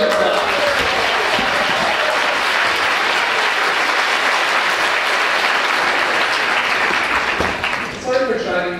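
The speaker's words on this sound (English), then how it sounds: "Let's give him a clap." An audience applauds an orchestra's conductor: dense, sustained clapping from a large crowd, steady and loud, fading near the end as a voice begins.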